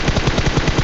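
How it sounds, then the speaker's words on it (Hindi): Rapid automatic gunfire in a battle royale shooter, a loud close burst of evenly spaced shots fired in quick succession with no pauses. "यहाँ पे मैं उस बंदे को थोड़ा सा फायर देता हूँ"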